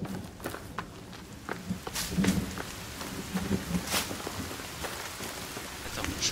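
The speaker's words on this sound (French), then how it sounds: "Oh, il pleut." Steady rain patters on surfaces with scattered louder droplets, a continuous wet hiss throughout, moderately quiet and close; rain in the video game The Forest.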